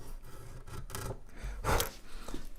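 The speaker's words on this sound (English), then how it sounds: "I'm going to take a nice sharp chisel, and we're very carefully here going to put a 45-degree angle on this, including into the pearl" Sharp chisel paring a 45-degree bevel into a guitar end graft, cutting into the pearl inlay: several short, close scraping and shaving strokes with one louder rasping cut near the end.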